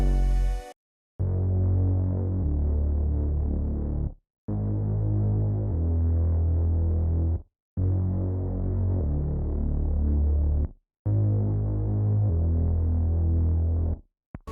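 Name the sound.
gritty synth bass line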